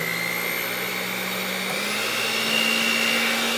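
Electric hand mixer whipping a two-ingredient ice cream base, a steady whirring motor drone running continuously up close with a slight pitch shift partway through, no voices over it.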